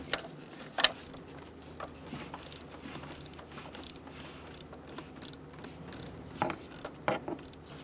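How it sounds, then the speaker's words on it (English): A ratchet with a 16mm socket works a spark plug loose on a 2003-2007 Honda Accord, producing soft mechanical clicks, creaks and scattered metallic knocks at close range, fairly quiet, with no talking. "Using a 16mm socket, we're going to remove the spark plug."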